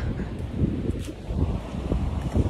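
Cold wind blows across Long Sands Beach in the UK, buffeting the microphone with low, uneven gusts and soft rustling that rise and fall continuously over the short stretch.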